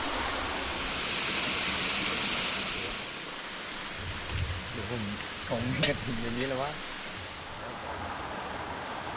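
Pha Chon Daen waterfall, a cliff cascade over 80 metres high, roars as a steady broadband rush, with someone talking briefly over it partway through.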